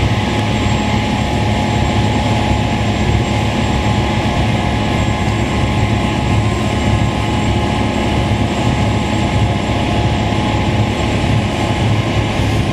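A large snow blower clearing snow in downtown Montreal in freezing winter weather, a loud, steady, close engine roar with constant droning hum and no pauses.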